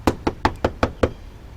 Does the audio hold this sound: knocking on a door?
yes